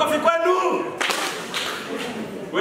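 Applause breaks out among wedding guests after a speech, with a dense patter of clapping swelling near the middle and continuing under a voice that keeps talking.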